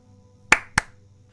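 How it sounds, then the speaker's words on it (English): Two sharp hand claps from a character in the video game Sable, spaced about a quarter second apart, close and crisp over a faint low ambient hum. "claps their hands twice and bobs a little"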